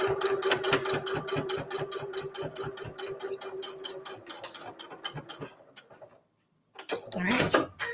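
A sewing machine runs steadily, top stitching around a quilted mug cozy in a fast, even rhythm of needle strokes. It stops near the end, then brief handling noise follows.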